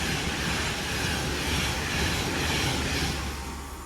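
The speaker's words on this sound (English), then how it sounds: "390-135 going from London Euston to Manchester Piccadilly. Pendolino." Class 390 Pendolino electric train running from London Euston to Manchester Piccadilly passes at Poynton, a loud close rushing roar that swells and then begins to fade, alone without voices.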